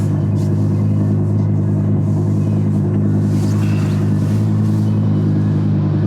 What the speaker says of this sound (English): Right, let's go for a drive.